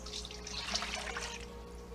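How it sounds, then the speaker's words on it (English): Beef broth poured into a pan as the base of a loco moco gravy, a soft steady trickle of liquid running evenly for about two seconds with no talking. "first thing we need to do, add our beef broth"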